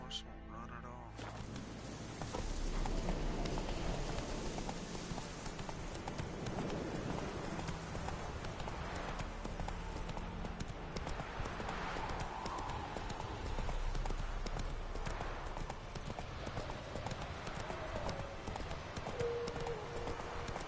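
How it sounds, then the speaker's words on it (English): Horse hooves in The Witcher 3 clip-clop steadily and loudly for a long stretch, a continuous rhythmic gallop with game ambience underneath and occasional whinnies. "Fucking horse won't run at all."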